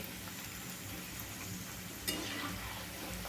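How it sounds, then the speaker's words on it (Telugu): Cauliflower 65 deep-frying in hot oil, a continuous crackling and bubbling sizzle close by, with a brief louder pop partway through and no voices. "ఈ చిట్టుకుంటుంది కదండి, ఇది బబుల్స్ బాగా వస్తున్నాయి కదండి"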